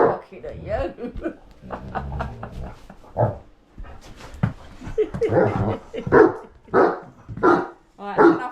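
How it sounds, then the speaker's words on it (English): A dog barks repeatedly in short sharp bursts, close by, mixed with people talking and laughing. "He's barking at you."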